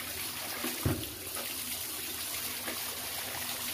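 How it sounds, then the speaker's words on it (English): Wool fleece rinsed in a bucket of hot water without soap, a soft continuous sloshing and trickling with one brief splash near the start, close by and with no talk. "give it another rinse without any soap in it"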